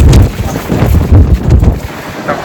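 Heavy cold wind at a beach in Edinburgh pounds the microphone with loud, rumbling gusts, a constant blustery roar that surges and eases throughout.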